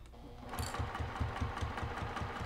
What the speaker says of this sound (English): I'm just going to stitch around nice and slow